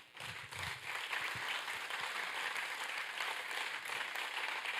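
Church congregation applauding during a Spanish-language Easter resurrection sermon, a dense, steady wash of many hands clapping that holds evenly from start to finish with no voices.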